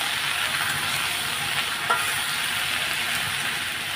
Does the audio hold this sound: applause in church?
no